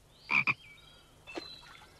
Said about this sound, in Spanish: Renacuajos no tardarán en convertirse en ranas como esa.